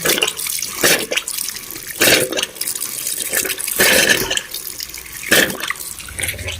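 Water from a washing machine's outlet pipe, left running into a bathroom, gushes and splashes in repeated strong surges with quieter trickling in between.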